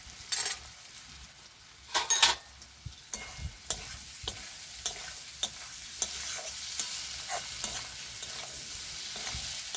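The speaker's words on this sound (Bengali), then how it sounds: "বাদামটাকেও একটু আমি নাড়াচাড়া করে নিলাম" Peanuts stir-fried with carrots in a pan give a soft, steady sizzle, punctuated by close spatula scrapes and clinks against the metal, quiet with no voices.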